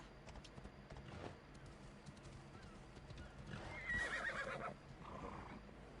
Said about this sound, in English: What are you doing, horse?